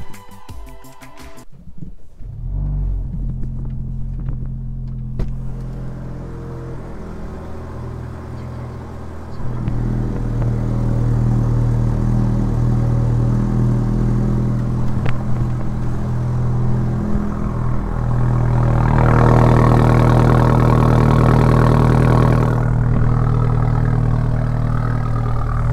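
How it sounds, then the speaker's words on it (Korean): A BMW F30 car's exhaust rumbles loudly and steadily, swelling louder twice as the engine seems to rev up before easing back, with no talking. "배기 소리가 꽤 크죠?"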